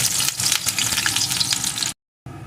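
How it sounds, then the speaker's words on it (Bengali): Chopped garlic fries in hot mustard oil, giving a steady, dense sizzle close by, broken by a brief silent gap near the end before the frying resumes. "এখন তেলটা আমার গরম হয়ে গেছে এর ভিতরে দিয়ে দেবো আমি চারটে রসুনের কোয়াকে কুচিয়ে রেখেছিলাম সেই রসুনের কোয়া"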